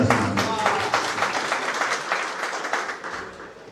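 Audience applause at a Hindi poetry recital, a dense steady wash of many hands clapping that carries on throughout and tapers off slightly toward the end, with no talk over it.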